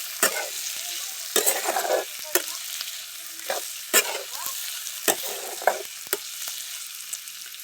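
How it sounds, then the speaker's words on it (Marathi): Bitter gourd stir-fries in a pan with a soft, continuous sizzle, broken by repeated sharp scrapes and clatters of a spatula stirring at irregular intervals, close and clear with no talking. "चांगलं परतू 5-10 मिनिटं असंच परतून द्यायचं."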